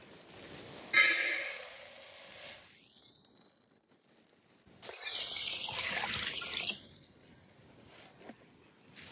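Water from a tap splashes over blue beans being rinsed in a sink for a bean dessert, coming in steady gushing stretches with brief pauses and shifting pitch as the flow changes, close by.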